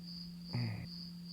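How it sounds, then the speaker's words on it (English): A cricket chirping sound effect plays as a short, bright burst of chirps over a steady electronic hum, brief and fairly quiet, with no one talking. "hit me with the crickets"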